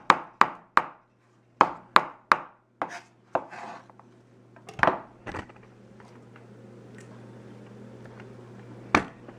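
A knife chops onion on a cutting board for homemade salsa, giving a run of sharp, close, separate cuts in uneven bursts, then a pause and a few more strikes.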